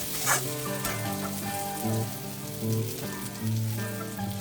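Potatoes frying with spices in a pan give a continuous close sizzle, with a few louder bursts as they are stirred.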